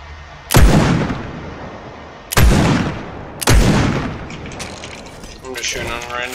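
Video-game gunfire in Fortnite: three loud, sharp shots about a second apart, each with a long booming decay, followed by faint electronic warbling tones near the end.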